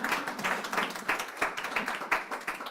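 A conference audience in a hall applauds, with brisk, moderately close claps that stay fairly steady for a few seconds and then begin to thin.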